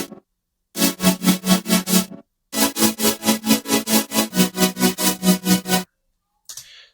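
Future bass synth chords with volume automation, loud bursts pulsing in a fast rhythmic wobble, stopping for a short gap and then starting again, with no voices.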